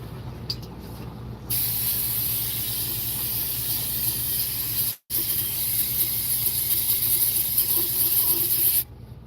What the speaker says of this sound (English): I'm just cleaning out this thing with brake cleaner and get all the old oil out.